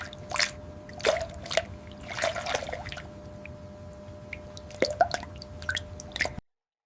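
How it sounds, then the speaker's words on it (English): Fuel from a Mercedes CLK350 tank runs into a container during a fuel pump replacement, a faint wet dripping and trickling with scattered small splashes over a low steady hum. "I got this bad boy here to take out the fuel from the tank and put on a container"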